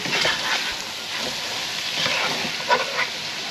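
Seasoned shrimp sizzling steadily in a hot pan during a pan roast, a close, continuous frying hiss with occasional stirring scrapes and small pops.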